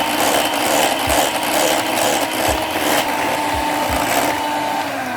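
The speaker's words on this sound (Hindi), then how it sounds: "और इसे भी हम करेंगे बीटर से मिक्स" An electric beater whips homemade condensed milk for a no-egg mango ice cream, a steady motor whir running throughout with a few low bumps as the beaters knock the bowl.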